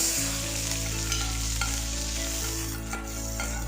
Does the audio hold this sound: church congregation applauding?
no